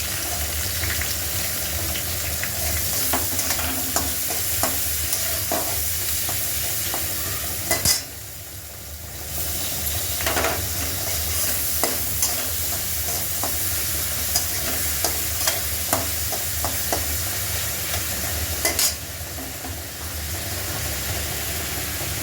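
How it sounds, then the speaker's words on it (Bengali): Tomato, onion, chilli and garlic fry steadily in hot oil and ghee with spices, a continuous close sizzle broken by scattered crackles and spoon stirring, with two brief dips in the sizzle partway through. "এটা একটু ভাজা ভাজা করে নিতে হবে না?"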